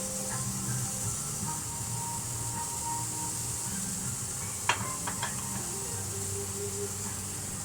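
Smashed lamb burger topped with onions sizzling steadily on a hot griddle, a constant frying hiss throughout with a couple of sharp metallic scrapes or taps from pressing it flat midway.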